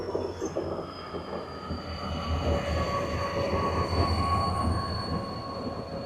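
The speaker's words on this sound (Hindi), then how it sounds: "ये हमारा न्यू गुवाहाटी का WDG4D आ रहा है 70776" A New Guwahati WDG4D diesel locomotive, number 70776, rolls in under a steady rumble with a high wheel squeal running across the whole stretch, moderately near and unbroken by talk.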